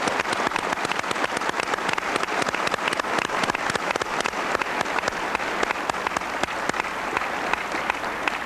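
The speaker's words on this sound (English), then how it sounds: "Why don't we say thank you with our applause to these 3 distinguished journalists." Sustained applause from a debate audience thanking journalists at a 1990 Texas gubernatorial Democratic primary debate, many hands clapping in a dense, even patter that holds steady for the whole stretch.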